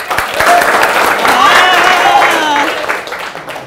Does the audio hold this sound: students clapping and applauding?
yes